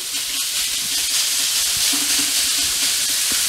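Chicken meat sears in a hot wok for chicken fried rice, a steady loud sizzle and hiss of frying that runs the whole time without a break.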